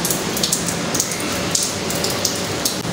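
Steady rain falls close by, with water running off a sloped area outside a home. Dense, even hiss with scattered sharper drops striking a surface throughout, and no voices.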